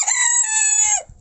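A rooster crows in a poultry yard among laying hens, one long clear cock-a-doodle-doo held for about a second, loud and close, with no other sounds around it.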